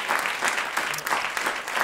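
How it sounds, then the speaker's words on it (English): Sustained applause from a crowd at a poetry reading event, dense clapping throughout with no break. "So please, a round of applause."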